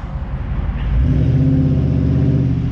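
A car engine revs hard and holds at high speed during a first burnout, its steady loud drone swelling after a second and staying strong to the end.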